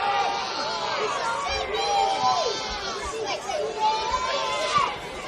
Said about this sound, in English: the crowd has really rolled in. A real carnival-like atmosphere